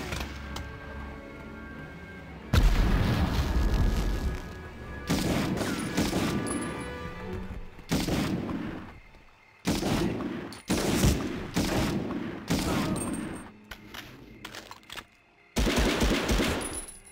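Bursts of machine-gun and rifle fire in the PlayStation Medal of Honor, loud volleys separated by short lulls, several distinct salvos in sequence with no voices over them.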